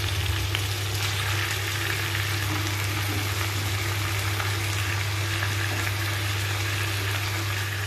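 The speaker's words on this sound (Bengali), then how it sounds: "খুব ভালো করে ভেজে নিতে হবে চিকেনটিকে, যেন মশলার সাথে পুরো ম্যারিনেট হয়ে যায়" Chicken and potatoes fry in spiced oil for a dhaba-style chicken curry, a loud, continuous close sizzle with a low steady bubbling beneath and no voices.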